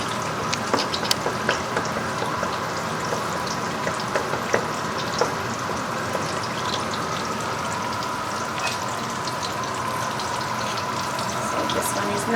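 Tomato sauce with eggplant cooks in a pot without added oil, giving a steady, soft sizzling and bubbling with faint scattered pops and light clinks throughout, close and continuous.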